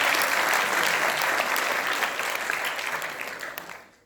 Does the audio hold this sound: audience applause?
yes